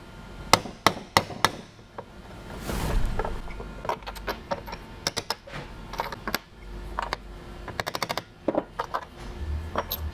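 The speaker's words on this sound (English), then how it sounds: "So these guys here, just a punch, a hammer, just pop them right out." Sharp metallic hammer blows strike a punch in quick bursts, knocking out standoffs on a 2018+ GT intake, several ringing taps in a row, close up, between short pauses and faint rustling.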